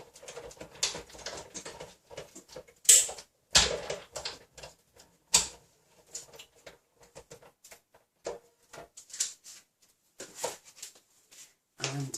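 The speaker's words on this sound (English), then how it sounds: "I'm just going to pop over to my machine and I'll cut this out." A die cutting machine cuts out a Christmas snowflake card, giving scattered clicks, rustles and mechanical patter at close range, irregular and moderately loud with short gaps, no talking.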